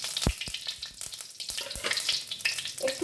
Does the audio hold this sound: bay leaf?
yes